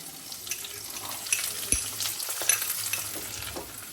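Onion and garlic fry lightly in a pan for a mutton dish, giving a steady crackling sizzle close by with intermittent scraping and stirring.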